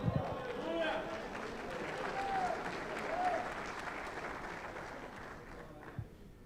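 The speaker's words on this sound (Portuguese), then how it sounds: "Dá um aplauso ao Senhor, vai." A church congregation at a pastors' conference applauds for several seconds, a steady dense wash of clapping under a voice speaking over it, easing off toward the end.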